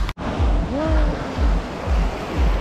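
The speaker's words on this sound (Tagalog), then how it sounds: "Malakas yung alon." Strong ocean waves break on the fine white sand of Boracay beach, a loud roaring surf with repeated rushing swells and wind noise over the microphone, up close.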